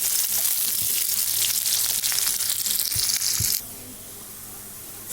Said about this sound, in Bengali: এখন পেঁয়াজটা বাদামি করে ভেজে নিচ্ছি।